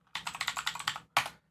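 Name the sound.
typing on a mechanical keyboard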